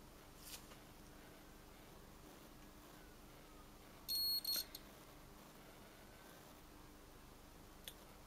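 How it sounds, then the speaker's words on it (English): A multimeter gives a brief, high continuity-test beep while a PS4 board is probed. It comes as two quick pulses in the middle, with faint clicks in an otherwise quiet room. "As you can see there, we get a beep, so that's good."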